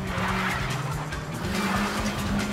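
Nissan Juke spinning its wheels on a rooftop auto test course, with tyres squealing over a strained engine note; loud and continuous, close by.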